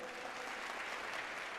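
An audience at a youth fest claps in a dense, steady burst of applause that holds evenly throughout the short moment.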